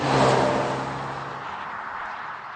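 A Ford Focus ST engine revs up sharply at the start, then the note fades back to a steady, quieter drone.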